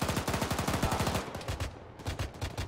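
Rapid automatic gunfire in the military shooter ArmA 3 rattles in quick bursts, a dense string of shots followed by a few sharper separate cracks, fairly close, with no talk over it.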